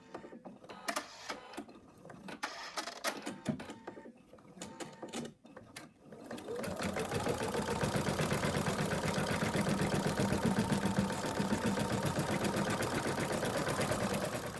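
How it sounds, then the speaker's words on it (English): An embroidery machine stitches the outline of an ear onto stabilizer held in a hoop. After several seconds of quieter clicks and handling, a loud, steady, rapid mechanical whirr of stitching runs continuously to the end. "put the hoop in the machine, and what we're going to do now is stitch out the outline of the ear"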